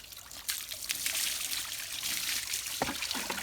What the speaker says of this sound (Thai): อาบน้ำสบายป่ะเย็นป่ะเบบี้เอ้ย